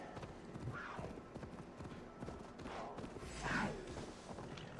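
Steady clip-clop of horse hooves at a trot in Assassin's Creed Valhalla, with a brief whinny and game background sounds, no talking.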